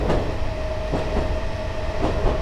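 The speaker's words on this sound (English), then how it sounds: "this is the AISA stock train" Stock train rolling past in the Train Simulator 2018 game on the Aylesbury Vale to London Marylebone route, a steady rumble with faint rhythmic wheel clatter and a thin tonal whine, continuous and fairly close with no voices.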